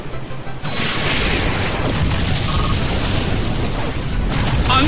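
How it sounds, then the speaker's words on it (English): A loud, booming explosion from the Explosion move in the Pokémon Battle Revolution video game, with a sharp onset followed by a sustained roaring rumble that fills several seconds. "Annihilated by explosion!"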